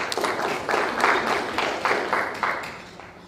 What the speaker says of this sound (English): Let's please give a big round of applause for Nusrat Baghelu